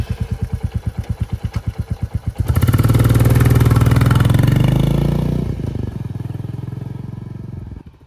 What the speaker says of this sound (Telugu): చాలా రోజుల తర్వాత నేను మమ్మీ బండి మీద వెళ్తున్నాం